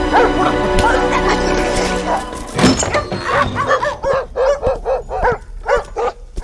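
Several dogs bark in quick repeated bursts, loud and close, after a stretch of mixed noise and commotion.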